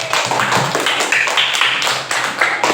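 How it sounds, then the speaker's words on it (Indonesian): Applause from a class group of students and teachers at an Islamic religious education session, a burst of many hands clapping loudly and steadily, close and dense, with no talk over it. "tepuk tangan"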